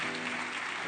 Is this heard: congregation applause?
yes